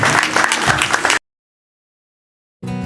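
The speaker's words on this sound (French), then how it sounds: "des applaudissements." Guests at a wedding clap loudly in a thick burst that stops abruptly after about a second, followed by silence and then the start of music.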